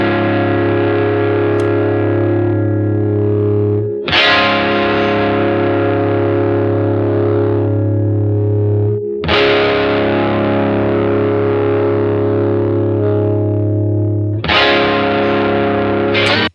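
Re-amped distorted electric guitars processed with a Melodyne brilliance adjustment play sustained, heavily overdriven chords, with loud fresh strums landing about every five seconds and each chord ringing on thickly in between, with no talking.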